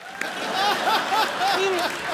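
Studio audience applause on a Hindi television comedy show, a steady wash of clapping running throughout at moderate loudness, with faint vocal whoops and chuckles riding over it.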